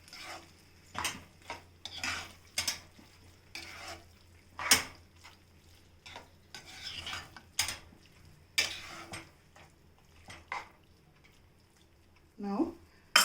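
A spoon scrapes and clinks through tamarind vegetable curry in a pan in scattered soft strokes and taps, fairly quiet and close, with faint kitchen ambience between stirs.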